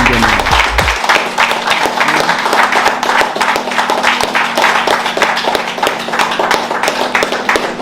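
A single person claps rapidly and steadily at close range, a brisk unbroken run of sharp hand claps that lasts several seconds over a faint low hum.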